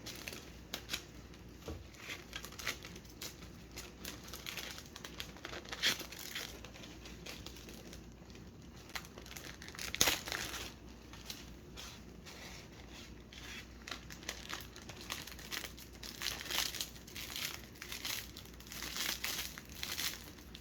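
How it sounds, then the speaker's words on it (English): Cellophane and shiny paper for a candy bouquet crinkle and crackle as they are handled and cut into a semicircle, with quiet, irregular rustling bursts and a few sharper crackles across the span, and no talk. "In this one I'm going to use cellophane and a shiny paper."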